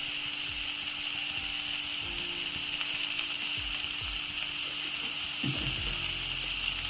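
Mushroom roast with turmeric frying in a pan, a constant even sizzle with soft intermittent stirring scrapes and a thicker bubbling scrape near the end, close and unvoiced.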